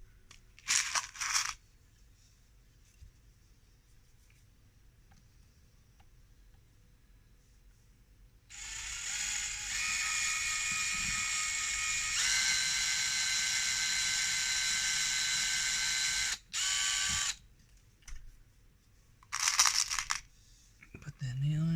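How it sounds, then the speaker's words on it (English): Power drill pre-drilling holes into the wooden frame of a 20-frame Vivo beehive, a steady whine running about eight seconds, pausing briefly, then a shorter burst, with quieter handling noises before and after. "Pre-drill holes."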